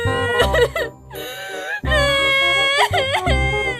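A woman crying in a cartoon scene, loud wavering wails and sobbing moans that rise and fall in long drawn-out cries with a short breath pause between them.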